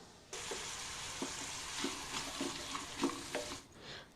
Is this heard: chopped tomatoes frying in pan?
yes